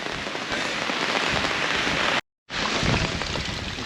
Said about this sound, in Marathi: तो बघा खाली भरपूर पाऊस आहे